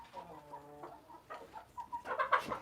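Chickens clucking while pecking at corn during an evening feed: a run of short, stacked clucks, then a pause and a louder burst of excited clucking and squawks, fairly faint and without talk.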